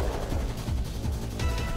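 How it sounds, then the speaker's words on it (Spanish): Gunfire in the survival game Rust, a dense run of shots and bursts from weapons around a raid, layered with continuous game noise throughout and no talk. "Le está disparando ahora mismo a uno de ellos"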